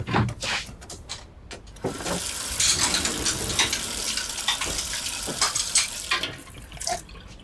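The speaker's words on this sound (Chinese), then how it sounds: "你去帮我把碗洗一下" Tap water runs into a kitchen sink while bowls are washed, a steady splashing hiss broken by short clatters and knocks of dishes, close by with no talking.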